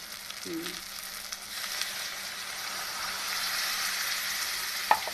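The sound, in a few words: pouring ground-paste water into frying stuffed brinjal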